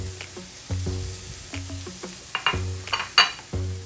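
Grated carrot sizzles in a hot pan for carrot payasam, crackling and spitting in quick irregular bursts while being stirred, close and fairly quiet.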